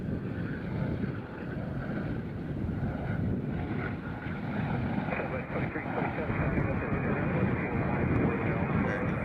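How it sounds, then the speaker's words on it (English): A broad, steady roar of a Sun Country jet airliner flying in at a distance at Nashville International Airport, mixed with wind buffeting the microphone, continuous throughout. "Joe, here comes Sun Country with some pro team."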